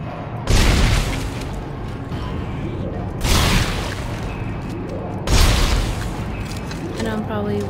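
Weapon fire in Dead Space 2 rings out in three heavy, booming blasts spaced a couple of seconds apart, each a loud burst that decays slowly into the game's ambient rumble.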